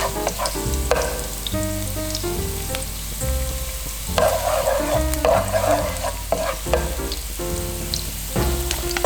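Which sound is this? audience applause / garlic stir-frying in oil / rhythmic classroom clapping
garlic stir-frying in oil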